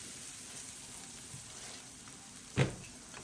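Passata tomato sauce sizzles softly in a pan as a steady low hiss, with one brief louder splash or stir near the end and no talking.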